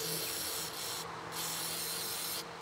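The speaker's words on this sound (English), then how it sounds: "So I'm going to go ahead and just use regular WD-40." Regular WD-40 sprayed onto a hay rake part, heard as a steady close hiss of aerosol spray with a couple of brief pauses and no talking.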